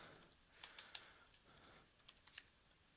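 Fingers type on a computer keyboard while an HTML file is written, giving quiet, irregular bursts of soft keystroke clicks close by, with no talking.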